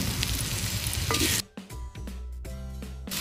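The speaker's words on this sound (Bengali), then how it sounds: "এবার চালের সাথে মশলাটা খুব ভালো করে মিশিয়ে নিতে হবে।" Rice mixed with spices in a clay handi for village-style veg pulao sizzles loudly, then gives way to a few distinct scraping and knocking stirs against the pot.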